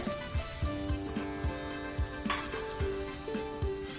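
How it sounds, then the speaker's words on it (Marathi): Grated mawa sizzles in hot ghee in a pan, a steady close frying hiss with soft periodic scraping and stirring taps throughout. No voices. "आता हे तूप गरम झालेलं आहे. यात आपण किसलेला मावा घालणार आहोत."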